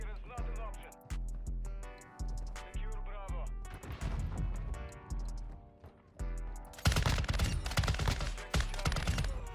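Raal MG light machine gun fire in Modern Warfare 2, loud repeated bursts with short pauses between them, dense chaotic firefight near the end.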